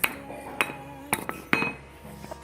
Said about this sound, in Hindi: हम भी मदद कर रहे हैं हथौड़े से इसकी साइकिल को ठीक करने के लिए